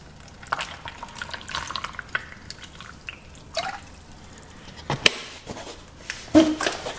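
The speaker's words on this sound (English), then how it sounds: "Add a little bit of water." Water added to a cherry-syrup smoothie mix in a kitchen, a soft thin trickle and drips broken by a few sharper splashes and clinks, fairly quiet and without talk.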